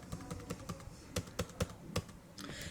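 Key presses on a computer keyboard during data entry in Tally accounting software, a run of light separate clicks and taps, a few sharper strikes for the Enter key, close up with no talking.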